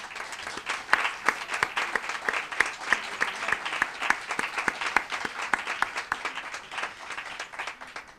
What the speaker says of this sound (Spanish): Por eso le vamos a tributar un aplauso.